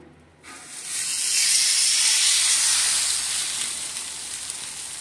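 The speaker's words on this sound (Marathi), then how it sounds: "तुम्हाला मी आता तव्यामध्ये टाकून दाखवते. तव्याला मी तेल लावलेलं आहे." Dhapate flatbread dough laid onto an oiled griddle bursts into a loud, broad hiss that swells after a brief quiet moment and then holds steady, slowly easing.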